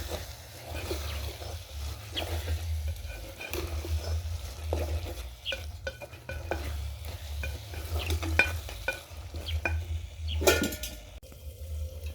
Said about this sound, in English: Let's cook our vegetable stew.